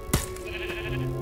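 A single sheep bleats in the Minecraft: Story Mode video game, a short nasal wavering call heard close and clear over a faint steady game background hum, with no voices.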